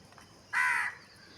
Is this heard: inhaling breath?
no